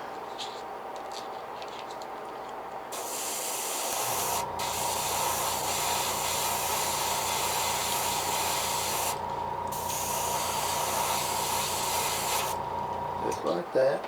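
An aerosol spray can hisses steadily while painting a blank fishing lure, with a few short bursts and pauses between long continuous sprays at close range.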